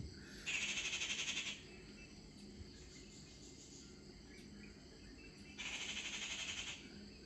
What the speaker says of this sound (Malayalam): ഇന്നൊരു മയിലിൻ്റെ വീഡിയോ ആണ് സൗണ്ട് കേൾക്കാട്ടോ ഇപ്പം